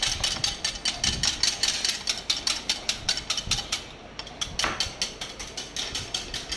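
A whole egg is hand-whisked in a bowl, a rapid, even series of close clicking strokes that slows briefly about midway before resuming.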